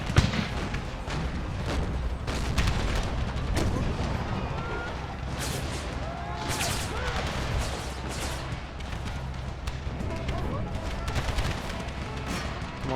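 Dense, continuous musket volleys and howitzer artillery fire in a Napoleonic-era battle in the strategy game Empire: Total War, with loud overlapping cracks and booms rolling without pause for the whole stretch.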